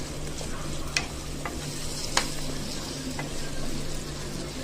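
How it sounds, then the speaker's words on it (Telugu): Spice masala with red chilli powder, mutton masala and garam masala frying with onions in a pan for a brain curry, a steady low sizzle with a few faint stirring clicks, no talking. "ఈ మసాలా మొత్తం ఆనియన్స్కి కొద్దిగా పట్టేంత వరకు ఒక 2 సెకండ్స్ అనేది కొద్దిగా వేయించుకోవాలి"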